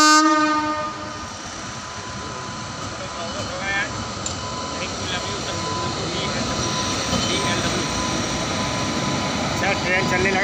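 A train rumbles steadily along the track nearby in Odisha, India, a horn sounding at the start, the clatter of the wheels continuing throughout.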